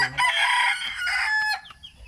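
A rooster crows loudly and close by among backyard chickens at morning feeding, one long drawn-out call followed by a few softer clucks.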